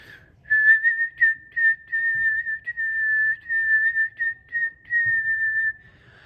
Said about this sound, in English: you can even practice articulating by whistling